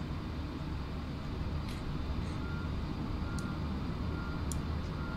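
An airport baggage vehicle in Microsoft Flight Simulator, beside an Airbus A320 at Phuket, gives spaced, repeated high reversing beeps over a constant loud engine and ground-equipment drone.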